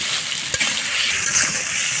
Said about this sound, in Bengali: এবার সিদ্ধ করে রাখা আলুগুলা দিয়ে দিব।